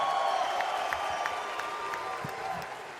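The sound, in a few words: crowd cheering for Optic Texas at the CDL event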